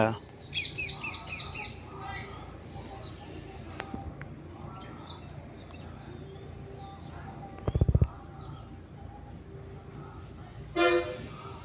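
Shrill parrot squawks and chirps come in short bursts over a steady outdoor background, with a sharp honk-like call near the end.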